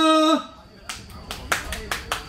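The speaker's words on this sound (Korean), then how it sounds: "박수 한번 부탁드릴게요." A few scattered, crisp handclaps from a small audience at a music performance gathering, following a singer's held note, fairly close and moderately loud.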